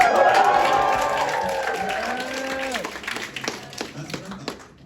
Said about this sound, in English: give me a cheer if Cornell has made you suffer